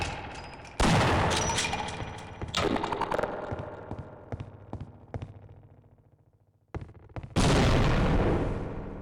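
Loud gunshots and heavy impact booms in Half-Life: Opposing Force come in several separate bursts with ringing tails and a quiet gap between them, then a final sharp blast.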